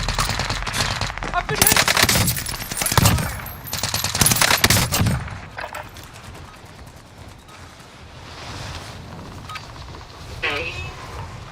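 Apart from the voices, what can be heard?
gunfire from enemy soldiers in a war video game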